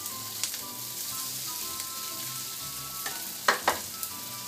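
Tofu sizzles steadily in a hot pan during a pad thai stir-fry, with a continuous close hiss and a few sharper crackles and scraping stirs toward the end.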